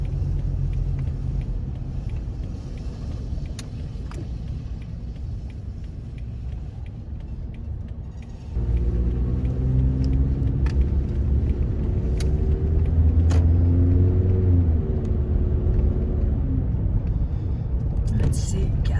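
A car drives steadily on the road and then pulls into a large Shell gas station parking lot, its engine rumble and tire noise continuous and close, growing fuller as it turns in, with no talk over it.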